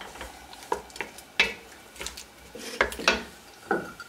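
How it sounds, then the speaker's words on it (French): A spoon stirs ground spices, including ginger and cumin, in a cooking pot for chorba, giving repeated scraping and clinking strokes over a faint sizzle. "On mélange comme il faut."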